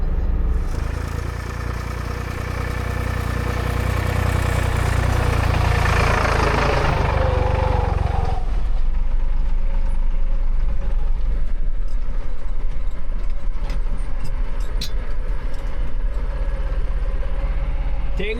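Tractor fitted with forks driving while hauling a rock crusher down from a mountain, its steady engine drone loud and close, heavier in the first half, then settling into a rougher, lower rumble.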